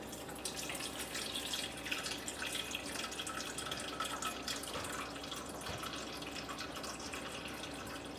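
Warm water poured into a bowl for gluten-free sourdough bread dough, a steady, soft trickle and splash running continuously at close range with no talking.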